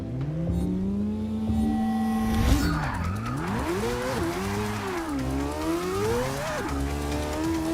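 A 2014 Nissan Juke Nismo RS in the Forza 6 racing game launches a drag run, tyres screeching loudly as the engine revs climb and fall through gear changes, sustained and close.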